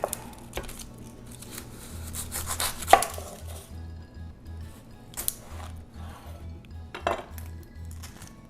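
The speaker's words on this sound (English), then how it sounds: "Chop the purple onion." A knife chopping a purple onion on a cutting board while making nacho toppings, with steady close cuts and a few sharper knocks and clinks between them.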